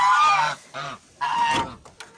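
Chickens squawk and cluck in three loud, close bursts, with short pauses between them.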